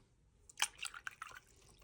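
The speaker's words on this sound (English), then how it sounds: "Now I'm going to rinse out my brush." A paintbrush swished and rinsed in a water jar during watercolor painting gives a short burst of soft drips and splashy clinks, close and quiet, with no talking.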